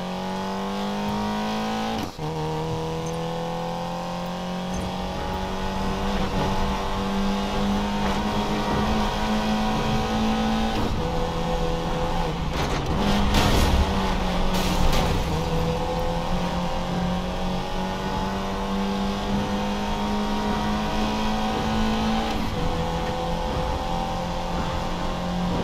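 Race car engine in the video game Need for Speed Payback, droning steadily and rising in pitch through repeated revs and gear shifts, loud and continuous with brief tire noise midway.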